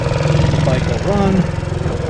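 A Black Ice Bear scooter engine idles close by with a steady low putter, while someone talks over it.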